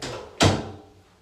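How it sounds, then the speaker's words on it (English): A single loud door thud as a door is shut close by in an indoor film scene, with a sharp impact followed by a short fading decay and no talking. "Lock the door."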